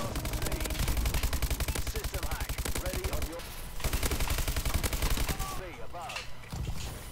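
Light machine guns fire in a video game in rapid, sustained automatic bursts. Two long stretches of fire are split by a brief pause, with a little more scattered shooting at the end.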